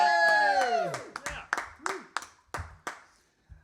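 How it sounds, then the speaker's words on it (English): A small live lounge audience gives brief, sparse clapping after a musician is introduced, a handful of distinct claps that quickly fade out. "It's very short live applause."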